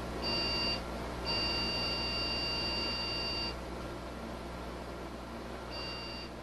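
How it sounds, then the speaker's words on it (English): A computer motherboard's built-in speaker sounds a POST beep code on a workstation salvaged from a dumpster: a short beep, then a long steady tone, then another short beep, all high and piercing over a constant low fan hum. "That's 2 short beeps and 1 long beep."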